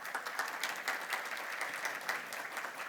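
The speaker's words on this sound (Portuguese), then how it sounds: "Cláudia, peço uma salva de palmas para ela." Steady applause from a conference audience, a dense wash of many hands clapping at an even level throughout, somewhat distant.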